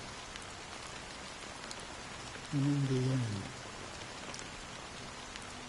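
Steady rain falling in the Honkai: Star Rail video game, a constant soft wash of drops that continues beneath a brief spoken line in the middle.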